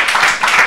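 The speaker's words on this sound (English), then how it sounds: "Please, a round of applause to him." Audience applause after an interview at an evening business event, a brief dense wash of clapping at close range and fairly loud, with no gaps.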